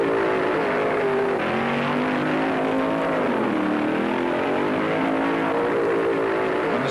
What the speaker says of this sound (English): There's some tough machinery coming out of the pits, like this first pairing of Richard Tharp and Jake Crimmins in Ravel's Jungle Gym. The burnouts are sensational.